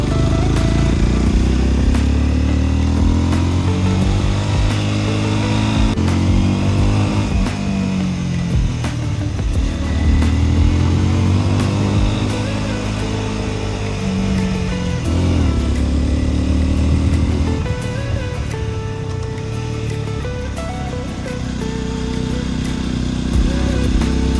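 A small 250cc motorcycle engine labours up a mountain road in the Japanese countryside, loud and close, its pitch rising and falling through gear changes and throttle shifts.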